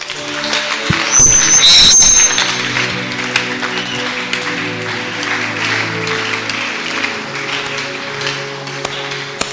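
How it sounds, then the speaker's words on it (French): A church congregation applauds the Lord during a service, with a burst of clapping that swells near the start and then continues steadily under sustained musical tones. "On acclame le Seigneur"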